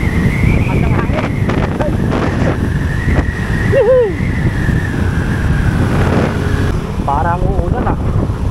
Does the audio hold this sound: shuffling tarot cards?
no